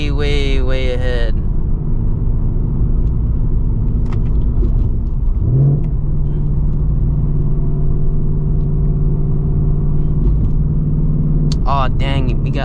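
Cabin rumble of a 2024 Ford Mustang GT at highway speed, a steady low drone with rising engine revs at the start and again near the end, and people talking over it.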